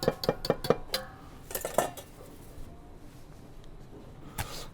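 Prawns in brine drop into a glass bowl for a prawn cocktail, a quick run of light wet clinks and taps near the start and another around two seconds, then mostly quiet with one last soft knock.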